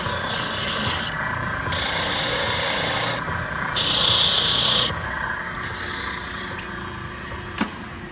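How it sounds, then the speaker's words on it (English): A large rubber abrasive cleaning stick pressed against a spinning spindle sander to lift wood sawdust, giving a loud rasping rub in several bursts of about a second each, over the motor's steady hum. "This is a giant eraser, and you can watch as it will pull the wood sawdust off of here."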